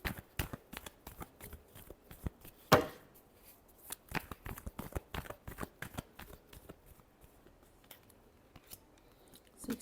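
Tarot cards being shuffled by hand, a run of quick dry riffling snaps and taps close up, with one sharper burst early on and no talking.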